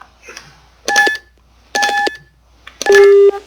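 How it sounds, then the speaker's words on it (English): Phone keypad dialing tones in the Dark Fall video game, three loud separate beeps spaced evenly about a second apart, with the last tone clearly lower-pitched, each with a faint clicky onset. "So I could dial someone's phone number if I want."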